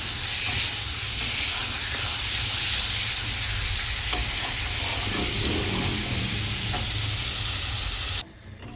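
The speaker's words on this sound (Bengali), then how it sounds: "এবারে এটাকে ভালো করে কষাবো কষিয়ে তারপরে ঝোল দেবো" Spice masala for a duck egg curry being sautéed in a pan without garlic, a loud continuous sizzle and hiss with occasional spatula scrapes, close and unbroken until it drops away at the end.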